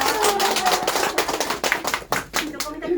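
People in a classroom give a burst of hand clapping, dense and close at first, then thinning into scattered claps near the end, with some talk mixed in.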